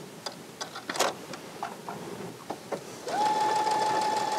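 A Baby Lock Lyric sewing machine sews an automatic back stitch: a few scattered clicks and short needle taps, then a steady, close motor whir holding evenly to the end.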